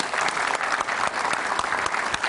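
Audience on an Indonesian talk show applauds a guest involved in volunteer ambulance escorting, brisk, even clapping from a crowd, loud and continuous throughout the short moment.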